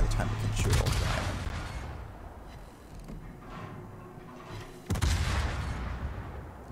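Warship guns fire over an island in World of Warships from a Tier 10 Newport-class ship: two loud broadband booms, one at the start and one near five seconds, each with a rumbling tail under steady low background noise.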